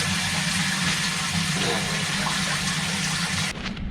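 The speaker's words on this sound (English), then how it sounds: "First very cold outdoor shower" Cold water runs and splashes steadily from an outdoor shower at a campervan stop in Denmark, a continuous close hiss that cuts off sharply near the end.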